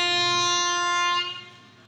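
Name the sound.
Indian deluxe tourist train arriving at Chennai Tambaram station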